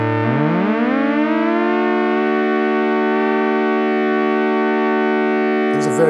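A Micromac D three-oscillator synthesizer with its filter opened sustains a loud, rich chord-like tone that starts with a rising sweep, then holds steady and bright for several seconds before ending in a brief noisy burst.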